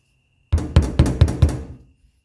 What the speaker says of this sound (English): And you just hammer it in there and it slowly opens it up.